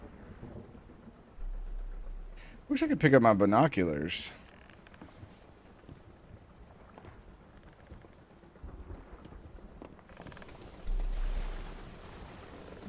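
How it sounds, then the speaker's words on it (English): Rain and thunder in the fishing video game Fishing: Barents Sea, with a loud rumbling thunder roll and steady rain hiss at sea while someone talks quietly over it. "The rain is out."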